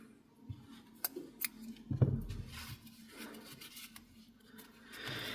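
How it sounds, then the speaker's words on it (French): Scissors snip through crochet yarn after a chain stitch on a handmade Santa amigurumi, a few close, sharp clicks and cuts over a quiet room. "Je vais faire directement une maille en l'air et je vais couper le fil."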